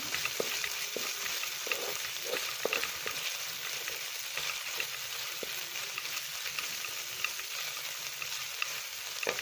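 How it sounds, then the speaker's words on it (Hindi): Potato patty filling fries in a little oil, a soft, even sizzle broken by scattered light stirring clicks and scrapes, close and steady with no voices. "और 1 से 2 मिनट बस इसको फ्राई करेंगे।"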